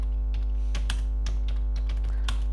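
Fingers type a line of text on a computer keyboard, with quick irregular clicks and a few sharper key strikes over a steady electrical hum, with no speaking.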